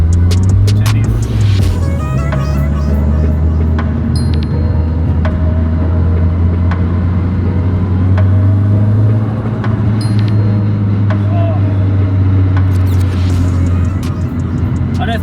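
A Nissan S15 sports car engine drones steadily while driving, a loud, constant low rumble with shifting pitch heard from inside the cabin, with someone talking over it.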